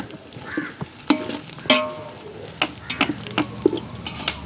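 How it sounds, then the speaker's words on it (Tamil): Biryani with freshly added coriander and mint being stirred in a pot over a wood fire, with soft scraping strokes and intermittent light clinks over a low steady sizzle, close and moderately quiet, no talking. "கொத்தமல்லி புதினா போட்டாச்சு. அப்படியே ஒரு 20 செகண்ட் அப்படியே கலந்துக்கணும்."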